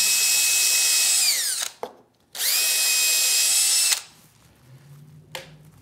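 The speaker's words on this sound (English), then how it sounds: "I'll just drill a quick pilot hole" A Makita power drill boring a pilot hole in a wooden bowl blank whines loudly in two long bursts, winding down after each, with a quiet pause between and a faint knock at the end.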